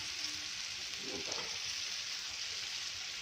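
Crushed garlic fries in a pan for a Maharashtrian thecha, a soft, steady hiss of oil, quiet and close, with a brief stir partway through.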